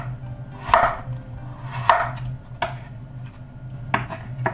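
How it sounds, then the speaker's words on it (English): Potatoes are cut into pieces on a board for Belgian fries, giving a few sharp knife chops at uneven intervals over a low background hum, with no talking. "cut it pieces like this."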